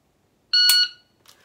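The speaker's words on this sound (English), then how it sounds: "So you see, there was a second beep as well" A shot timer sounds one loud electronic beep lasting about half a second during dry fire practice, followed a moment later by a much fainter, brief second tone.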